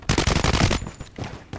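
Assault rifle gunfire from the Blood Strike shooter, a fast, loud burst of rapid automatic shots for most of the moment, then a brief pause and a few scattered follow-up shots.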